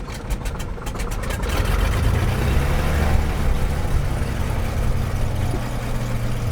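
Aircraft engine starting at its ignition, a few rapid cranking pulses at first, then a loud, steady low rumble building into continuous running, close and alone.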